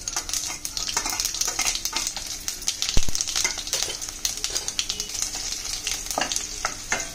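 Cumin, mustard seeds and finely chopped garlic fry in hot oil in a pan for a drumstick (shevga) curry, giving a steady close sizzle broken by stirring scrapes and one sharp knock midway.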